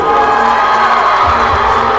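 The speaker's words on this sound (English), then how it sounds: "You hear the crowd tonight, a huge crowd" A large home crowd at a high school basketball game in a gym, a loud, sustained roar of cheering and shouting that fills the space continuously, with no announcer voice standing out.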